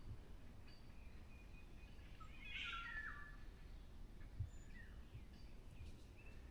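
A wild bird calls once in a forest at dawn, a brief clear chirping phrase standing out over steady ambient hiss, with faint softer calls scattered around it.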